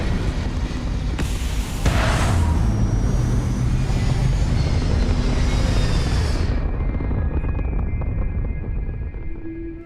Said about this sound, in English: Liftoff initiated, Captain.